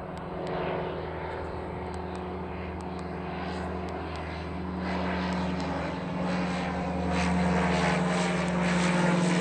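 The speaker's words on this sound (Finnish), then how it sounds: "Katsotaan koneen. Etteikö se lentokone?" An airplane passes overhead with a steady droning engine hum that swells slightly louder toward the end, continuous and unbroken, with no talk.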